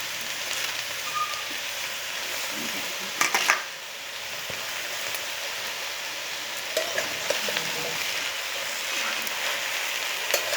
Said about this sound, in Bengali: আস্তে আস্তে করে নাড়িয়ে নেবো, টলফুল করে নেবো, তাহলে সবজিগুলো একসঙ্গে মিশে যাবে।